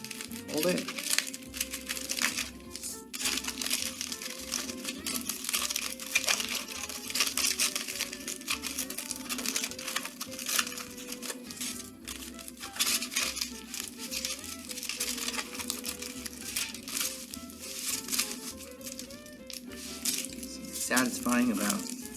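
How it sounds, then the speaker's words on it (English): Tin foil being crumpled by hand, folded and unfolded for a craft mosaic, giving dense crinkling and crackling close up, continuing steadily under a person talking. "crumpling it and then unfolding it."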